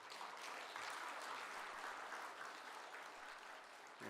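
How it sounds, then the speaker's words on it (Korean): Congregation applauding during a Sunday church service in Korea, a steady dense wash of clapping hands throughout, fairly quiet and distant, with no talk over it. "박수하겠습니다"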